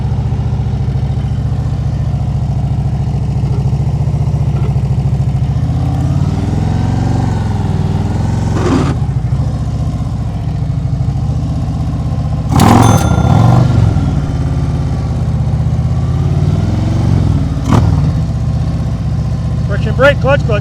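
A motorcycle idles and creeps through slow-speed riding practice in Maryland, its steady low engine drone running throughout under ongoing talk, with brief louder bursts partway through.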